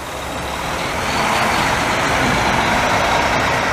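Rush-hour traffic on Rue Notre-Dame in downtown Montreal, with city buses and RTL South Shore buses rumbling past, a steady loud engine drone that swells and stays dense throughout.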